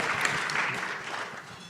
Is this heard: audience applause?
yes